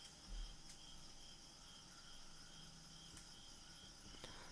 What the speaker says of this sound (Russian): Ночные сверчки уже открыли свои крылья, чтобы начать петь свои прекрасные успокаивающие песни.